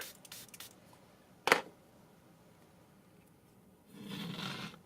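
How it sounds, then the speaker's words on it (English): A sharp spray burst from a pump bottle onto the back of a phone screen protector, followed by a longer hissing spritz near the end, with faint handling noises in between. "You're going to want to liberally spray the back."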